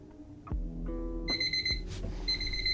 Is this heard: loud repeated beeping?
yes